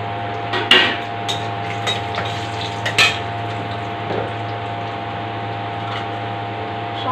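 Bay leaves and dried red chillies sizzle in hot oil in a home kitchen, a steady frying hiss over a constant low hum, with a few faint clicks and clinks of utensils.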